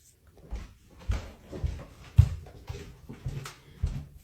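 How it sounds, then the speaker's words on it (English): A house door bumps and rattles repeatedly, pushed by air from a vent, giving a series of soft thuds about every half second, close and fairly quiet. "The vent pushes the door."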